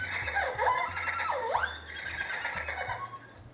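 A musical instrument bends its pitch in wavering, whinnying glides that swoop down and back up, imitating a horse's neigh. It sounds moderately close, over a low steady drone and some background noise.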